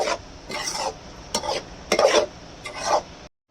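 Mushroom gravy is stirred in a cooking pan with a spoon, making about five rhythmic scraping strokes over a soft bubbling simmer, close and clear.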